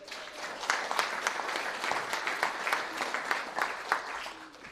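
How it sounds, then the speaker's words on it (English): People at an inaugural council meeting clap for the newly elected councillors, a moderate, fairly sparse applause with distinct individual hand claps that rises and dips in small waves across the room. "I'll take a clap for all the councillors-elect too."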